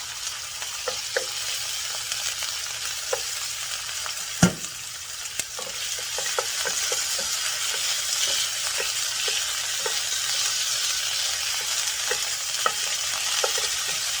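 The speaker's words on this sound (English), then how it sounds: "If your frying pan's hot, just for a minute like this." Steady, loud sizzling of beef tenderloin frying in a hot pan, with scattered light clicks of stirring and one sharper knock partway through.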